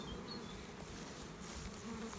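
A steady, close insect buzz of many honeybees droning together as a swarm files into a hive, continuous and moderately loud with no talking.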